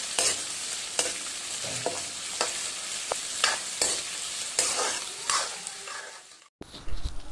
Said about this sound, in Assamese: আৰু আদা তেজপাত দি মই ভালদৰে ভাজিম